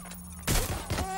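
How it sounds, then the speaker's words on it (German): Gunfire in the video game Watch Dogs: Legion: a sudden loud burst of shots followed by a second weaker volley, close and sharp against a steady game hum. "Schüsse! Schüsse!"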